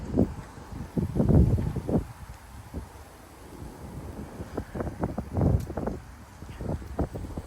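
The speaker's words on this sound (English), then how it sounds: "But holy cow, it is windy." Strong night wind gusts buffet the microphone in Frisco, Texas, rising and falling in loud rumbling bursts with rustling between them, and no voices are heard.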